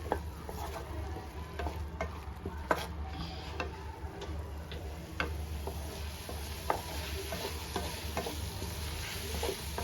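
Tomato masala for green peas kurma is sautéed in a pan, a soft continuous sizzle broken by light clicking taps of a stirring spoon, close and without speech.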